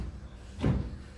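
A drawer in a hotel room slides open with a short wooden rumble and thud, close and brief against a quiet room.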